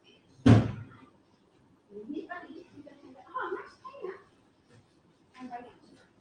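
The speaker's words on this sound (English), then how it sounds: "I'm going to open the door." A house door is opened with one sharp loud thump or bang near the start, followed by people talking quietly in the room.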